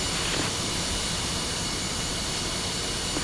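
An F-5E jet engine in Digital Combat Simulator runs steadily after start-up, a loud, continuous broadband roar with a high whine on top, holding constant throughout with no talking.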